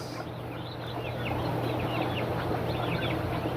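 A flock of broiler chickens clucking and chirping steadily, close up and fairly loud, with a constant farm hum underneath and no speech.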